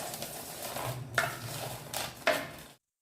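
A metal spoon stirs fried potatoes and spices in a kadai, giving a few soft scraping strokes and two sharper clinks against the pan, close and quiet.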